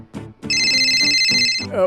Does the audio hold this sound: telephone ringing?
yes